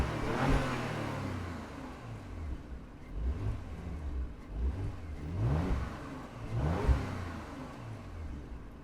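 Porsche Macan S 2023 exhaust revving in sport mode: repeated throaty engine revs swell and drop several times at close range, with no talking.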